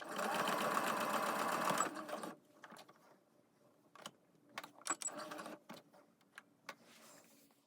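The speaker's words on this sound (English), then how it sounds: "Now I'm going to top stitch all the way around each strap." A sewing machine runs in a fast steady whir while topstitching around toddler suspender straps, then stops, followed by scattered clicks, taps and fabric handling sounds up close.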